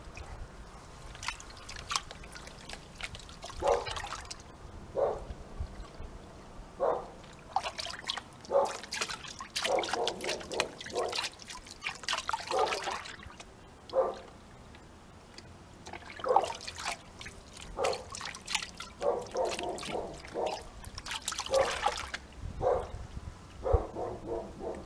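Gold panning of river sand and oversize material in water, with repeated sloshing, trickling and dripping splashes in an irregular rhythm, close and moderately loud, no speech.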